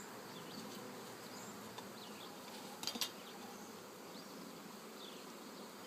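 Steady, dense buzzing of many bees close by, continuous and even, with a few louder wingbeats passing near.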